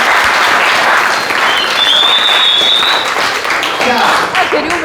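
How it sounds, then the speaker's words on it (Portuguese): An audience at a talk applauds loudly in a continuous, dense burst of clapping that fills the room, with voices mixed in. "aplauda a Rádio Cidade, gente"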